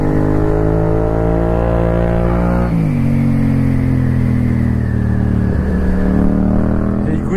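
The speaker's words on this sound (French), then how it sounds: "Écoute-moi le bruit de ce Acra." A car with an Akrapovič exhaust revs hard up close, climbing in pitch, then drops sharply and rises again in a second, rougher rev.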